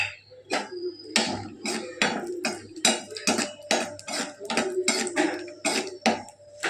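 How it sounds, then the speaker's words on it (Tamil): About 50 grams of cashews roasting in melted ghee in a pan, stirred until golden brown: a steady run of close, sharp spatula clinks and scrapes against the metal, about two per second, with no voices. "இப்போ ஒரு 50 கிராம் முந்திரி பருப்பை வறுத்துக்கலாம்"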